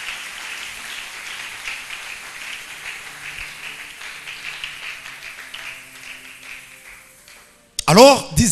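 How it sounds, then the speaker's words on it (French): A church congregation applauding and cheering for Jesus in a sustained wash of clapping that swells and fades over several seconds, ending with a loud, close burst of voice. "On acclame très fort pour Jésus"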